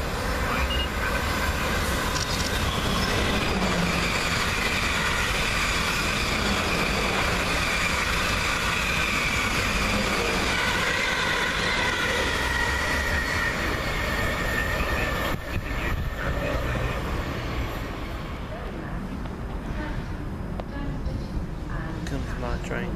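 A Class 450 electric train passes on the South West Main Line, a loud, continuous rumble and rush of wheels on rails lasting throughout, with someone talking over it.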